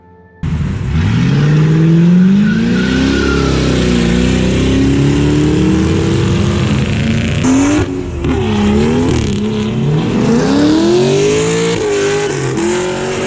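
Cars rev hard at a cruise night where drivers do burnouts with loud exhausts, recorded about 30 feet from the road; sustained engine roar rises and falls through repeated revving, loud and close, with a brief dip midway.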